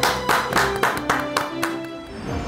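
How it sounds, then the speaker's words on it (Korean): Audience clapping welcoming a guest onto a talk show stage, a few distinct claps in a short irregular burst over a faint background tone. "큰 박수로 맞아주시기 바랍니다"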